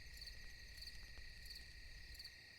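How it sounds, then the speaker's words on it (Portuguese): Crickets chirping steadily at night, a dense continuous high trill with a faint low rumble beneath, no voices. "Havia apenas o som dos grilos, o sussurro do vento."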